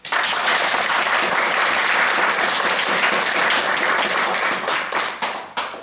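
Loud, dense theatre audience applause, a steady wash of many hands clapping that holds for several seconds before thinning into a few scattered final claps.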